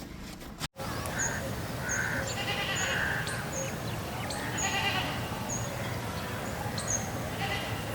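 A herd of goats bleats beside roadside farmland, with several short cries scattered across the scene over steady background rumble. A sharp knock comes right at the start.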